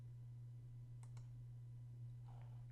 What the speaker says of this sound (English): in order to run it, simply click on the run button here